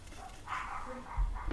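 A dog in a home gives a brief bark or yip, quiet and somewhat distant, in a short burst with no talking.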